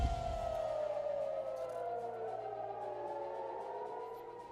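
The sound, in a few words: air raid sirens going off in Israel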